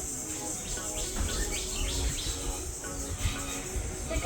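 Birds chirp in the greenery around a house in Kerala, a mix of quick overlapping tweets and calls with insect buzz beneath, moderately distant and steady.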